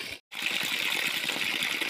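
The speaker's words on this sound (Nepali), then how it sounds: "यो चाहिँ कन्टिन्यू 12 वर्ष पानी यतिकै झरिराख्छ।" Cold spring water pours steadily from a village spout, a continuous close splashing gush that runs on without pause after a brief dropout at the start.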